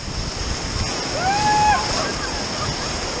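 Rushing water on Fırtına Deresi during rafting makes a steady, loud broadband roar, with a brief high voice calling out over it partway through.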